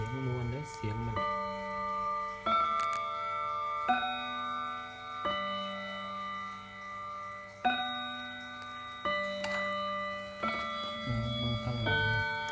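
Old German wind-up mechanical clock with no battery, its ringing bell-like chime tones struck at intervals against soft steady ticking, with a voice talking lightly in the background.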